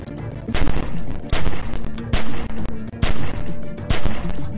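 Rapid bursts of gunfire in The Walking Dead: 400 Days video game, several loud volleys in a broken rhythm with short pauses between them.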